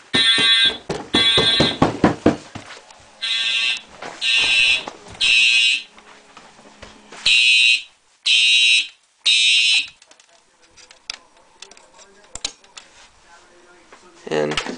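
Fire alarm system sounding during a test after a 278B pull station was moved downstairs, giving loud repeated horn blasts in a steady on-off rhythm with clatter and voices between them.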